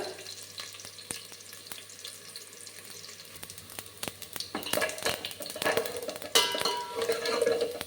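A dal tempering fries hard in a pan until it darkens, its soft crackle growing busier and louder partway through into dense, close spitting and sizzling.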